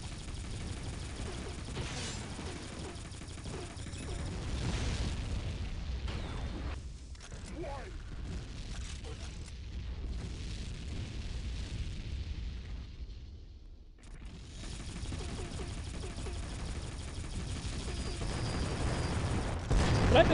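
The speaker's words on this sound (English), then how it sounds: "It's explosions on our base." Heavy explosions pound a team's base in the video game Tribes 2, a dense run of booming blasts and bursts over constant rumbling battle noise for about twenty seconds.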